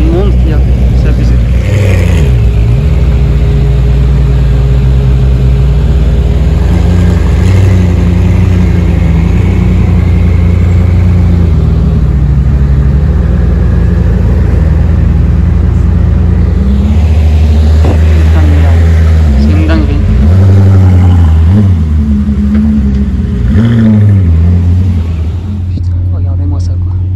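Two Koenigsegg supercars pulling away through a crowded Monaco street, a deep engine rumble rising and falling with revving bursts, heard close under excited talk and crowd noise.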